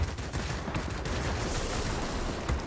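Machine guns fire in a World of Warplanes dogfight on an I-153P biplane, a dense continuous rattle of gunfire held at steady volume.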